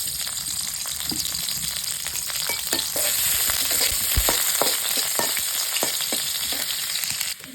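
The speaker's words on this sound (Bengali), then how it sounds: "শাক বাগার দেওয়ার জন্য পেঁয়াজ কুচি দিয়ে দিছি, তেল দিয়ে দিই।" Chopped onion frying in hot oil for tempering cooked greens, a steady loud sizzle with repeated scraping strokes of a spatula in the pan.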